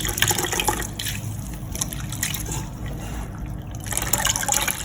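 Jute leaves are washed in a basin of water, with close splashing, trickling and swishing that rises and falls as the leaves are moved and wrung, and no talking.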